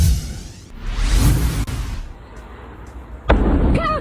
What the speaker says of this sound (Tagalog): isang pagsabog ang nakuhanan sa isang ammunition factory sa Colleferro malapit sa siyudad ng Rome